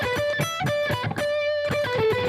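Fast, heavily distorted electric guitar riff from a song, played alone as quick picked notes with one sustained note in the middle, steady and fairly loud.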